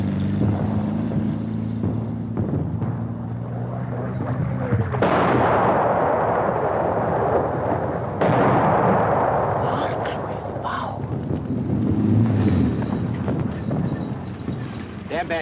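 A German 88 artillery gun fires on a World War II battlefield, heavy booming blasts with long rumbling tails over constant wind and engine-like noise, with a voice speaking between shots.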